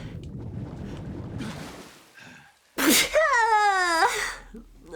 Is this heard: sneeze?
yes